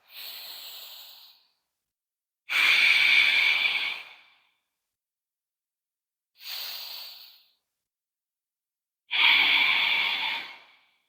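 Slow, deep yoga breathing, four long breaths that alternate between a shorter inhale and a louder, fuller exhale, each separated by silence, close and clear with no talk.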